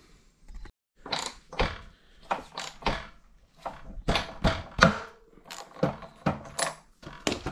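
A spark plug is unscrewed from an old barn-stored moped engine with a 21 mm socket, producing a series of close metallic clicks and ratcheting creaks in short irregular bursts with quiet gaps.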